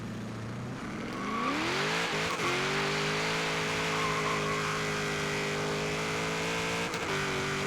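A 1991 GMC Syclone launches hard off the e-brake, engine revving up through rising harmonics as the tires squeal, loud and close, then holds a steady high drone with a brief dip before settling again.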